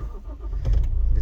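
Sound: Toyota RAV4 D4D diesel engine starting with push button

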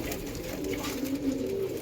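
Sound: pigeon cooing

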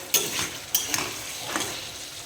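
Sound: potatoes and kohlrabi being sautéed and stirred in a pan

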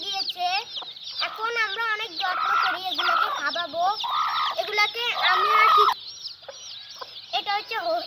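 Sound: chicks peeping

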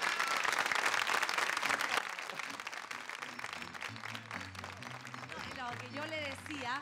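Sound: studio audience applause

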